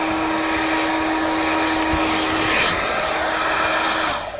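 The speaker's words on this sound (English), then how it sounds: "Look, here's a salon hairdryer." A mains-voltage salon hairdryer blows steadily inside a camper van, a loud continuous whoosh with a motor hum that holds for about four seconds before the airflow cuts off.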